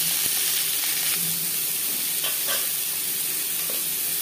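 Diced potatoes fry in a little refined oil in a pan, a steady close sizzle and hiss with a few faint scrapes of stirring, and no one talking.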